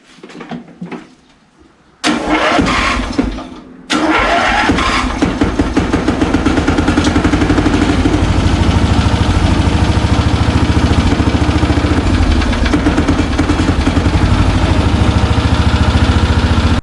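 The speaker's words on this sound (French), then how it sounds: "Là, on l'a démarré" A riding lawn mower tractor engine cranks briefly on choke, catches after a pause, then settles into a loud, steady, close running drone that continues to the end.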